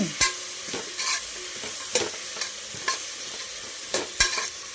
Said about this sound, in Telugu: కలుపుకుంటున్నాం ఇప్పుడు కొంచెం కారం వేసుకోవాలి